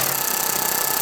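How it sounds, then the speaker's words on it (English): A power window motor on a Ford Expedition drives the window regulator down, a loud, steady, close electric whine with a fine rattling buzz that cuts off at the end. "we're going to lower our regulator until we can see our 2 bolts"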